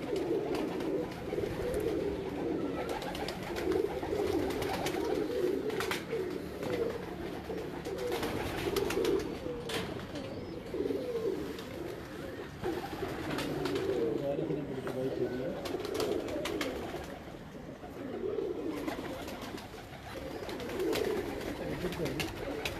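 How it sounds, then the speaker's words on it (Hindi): Breeder pigeons coo repeatedly in soft, rolling low calls, close by, with people talking over them now and then. "लो सर है कबूतर मेरा फेवरेट आया जी"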